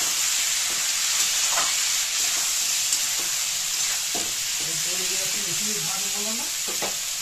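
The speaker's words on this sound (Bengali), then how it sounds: "হলুদ আর লবণটা দিয়ে ভালো করে মিশিয়ে ভেজে নিতে হবে 2 থেকে 3 মিনিট" Onion greens (spring onion stalks) fry with salt and turmeric in a pan, giving a constant loud sizzle and hiss with occasional spoon scrapes and stirring clatter throughout.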